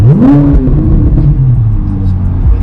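A loud Corvette Z06 engine in its loud drive mode revs up sharply then settles into a deep, rumbling idle, close by, with no one talking.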